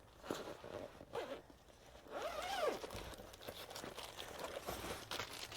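A zipper is pulled open on the tote bag of a Sunwayfoto HT4030CBI tripod, producing quiet, close, raspy zipping strokes with some rustling of fabric.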